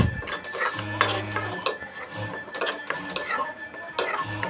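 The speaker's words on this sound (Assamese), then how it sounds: "আৰু খনাই লৰাই থাকিব লাগিব যাতে আটাখিনি দেই নাযায়" A utensil stirs and scrapes wheat flour as it roasts in a pan for atta laddoo, giving repeated close scraping strokes over a low steady hum.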